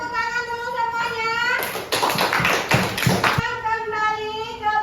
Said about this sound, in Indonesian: Coba tepuk tangan dulu semuanya.